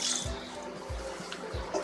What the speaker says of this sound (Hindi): चावलों को निचोड़ लेंगे और इनके ऊपर ठंडा पानी डालेंगे। ठंडा पानी लाजमी डालना है, ठंडा पानी टूटी का।